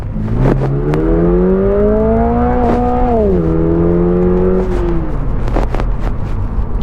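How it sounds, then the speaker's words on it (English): A 2022 Toyota GR86 automatic's engine, with synthesized engine sound piped in, drones loudly from inside the cabin, its pitch climbing smoothly, dipping once, then settling, over a constant road roar. "I don't really like all of the sound on the interior with the like fake engine noise"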